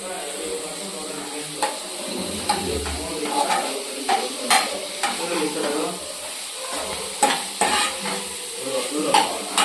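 Onions fry in a pan for pepper chicken masala, with a steady sizzle and the scrape and clink of a spatula stirring at irregular intervals, close by.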